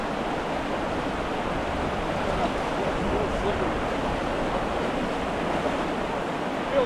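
River water flows in a steady, unbroken rush that stays close and fairly loud across the whole stretch, with no distinct splashes standing out.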